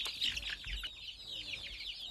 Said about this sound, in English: Gideon Bagbo has also invested in some chickens.